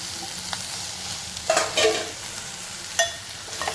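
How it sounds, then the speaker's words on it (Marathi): Capsicum fries with onion and turmeric in a pan, a close, steady sizzle punctuated by a few sharp scraping clanks of a spatula stirring against the metal. "परतून झाल्यावर आपण शिमला मिरची टाकून घेऊया"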